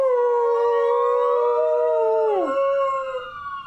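A dog howls along with a passing police car siren, long rising and falling tones drawn out for several seconds, loud and close, the pitch dropping sharply near the end before fading.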